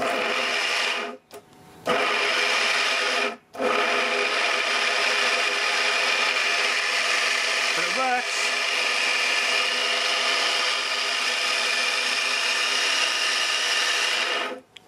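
A rusty Makita wood planer running on 30 volts gives a loud, steady motor whine and whir close by, cutting out twice briefly near the start before running on continuously.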